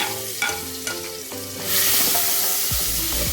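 Whole spices (cumin, cloves, star anise, cardamom, pepper and bay leaves) sautéing in hot fat with stirring, a close sizzle with spatula knocks that swells into a louder, denser frying hiss halfway through.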